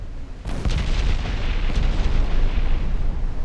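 In the naval video game Ultimate Admiral: Dreadnoughts, torpedo hits and explosions sound as a sudden loud blast followed by a long rumbling roar with rolling booms, heavy and close, with no voices.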